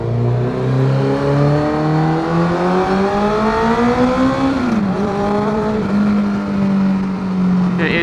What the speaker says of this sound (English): Said it just pulls from low RPM all the way up to the red line.